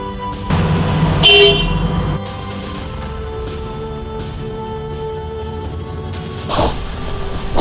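The horn of a Komatsu PC200-8M0 hydraulic excavator sounds as a steady, loud toot held for several seconds, with a low engine hum beneath and a brief sharp burst near the end.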